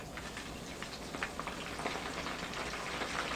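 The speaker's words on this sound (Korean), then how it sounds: "그러면 탕수육 2차 튀김 해볼게요." Dense, steady crackling and sizzling of sweet and sour pork in its second deep-fry in hot oil, with a continuous bubbling texture and scattered louder pops, close and fairly quiet.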